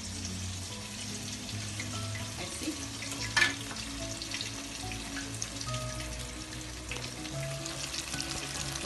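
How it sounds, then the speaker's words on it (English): Golden purse dumplings deep frying three at a time in hot oil over high fire give a steady soft sizzle, fairly quiet and continuous, with a small clatter near the middle. "So now this is frying,"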